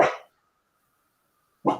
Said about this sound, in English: I did not expect the dog that we are babysitting decide to bark like a crazy dog